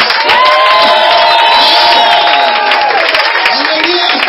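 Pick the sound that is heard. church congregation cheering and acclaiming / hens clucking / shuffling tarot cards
church congregation cheering and acclaiming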